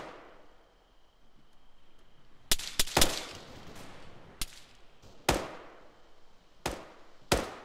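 Gunfire in the military video game Arma with the ALiVE mod: several sharp, loud shots in irregular bursts, some doubled, over a steady low ambient hiss.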